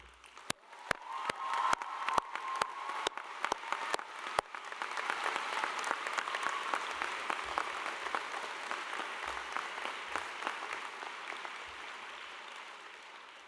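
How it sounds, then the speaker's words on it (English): Graduation ceremony audience bursting into sustained applause, starting with a few sharp isolated claps that swell into dense, steady clapping from a large crowd in a hall, gradually tapering at the end. "Can I also, to follow that, ask you to put your hands together for a final round of applause for Dawn"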